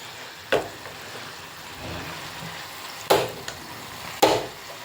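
Spice tempering fries in a pan for a North Karnataka masala mandakki (puffed rice) dish, a soft continuous sizzle broken by three sharp stirring clatters, no voices.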